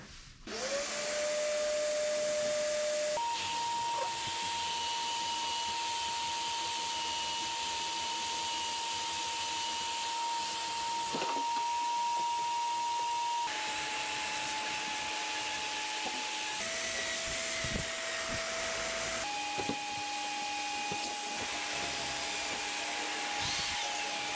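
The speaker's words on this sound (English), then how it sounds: "I'll wire wheel this all off and clean it up." A power wire wheel scours a Volkswagen Super Beetle idler arm, a steady whirring hum whose pitch shifts several times as pressure changes, with occasional scraping ticks; no voices.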